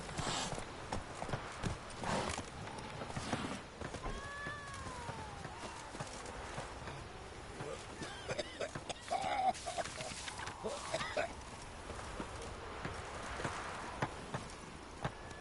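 Hoofbeats of the horse Roach galloping in The Witcher 3 video game, a steady clip-clop rhythm at moderate distance, mixed with game ambience and brief voice lines.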